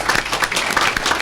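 Audience members at a board meeting break into applause, a dense patter of hand clapping from a small indoor crowd, brief and steady.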